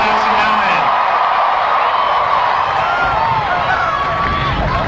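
Graduating class at a university commencement ceremony answering with a loud, sustained roar of cheering and whoops from a large crowd, dense and continuous, with voices mixed into the din.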